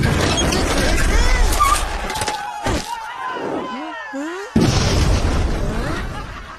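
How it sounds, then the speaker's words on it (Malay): Booming blasts of a bamboo cannon at a festive celebration in an animated scene, with deep thumps and a loud burst near the end, mixed with whistling, swooping effects and busy background noise. "Ada meriam buluh."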